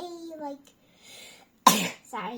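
A single sharp, explosive sneeze bursts out between stretches of a voice.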